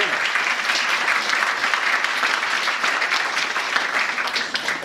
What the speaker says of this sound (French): Et je vous demande de lui faire une super ovation